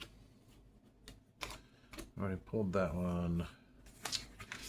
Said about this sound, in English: I gotta shuffle these better.